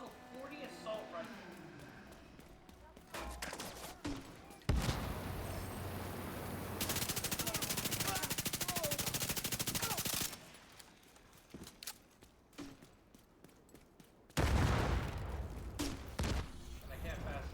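Assault rifle gunfire in The Division 2, a level 40 Pyromaniac rifle, with several loud sustained automatic bursts between quieter stretches of combat noise.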